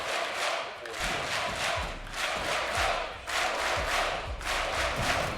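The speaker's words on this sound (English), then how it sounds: "This crowd have been incessant today." A large indoor esports crowd at the Six Major Berlin 2022 Rainbow Six playoffs roars nonstop through a tense RGE versus FaZe map, a dense wall of cheering and chanting with rhythmic stomps and thuds pulsing about once a second.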